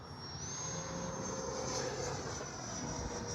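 An E-flite 70mm Viper RC electric ducted-fan jet makes a low pass with gear and flaps down, giving a steady whine with a rising high tone, moderately distant and constant throughout.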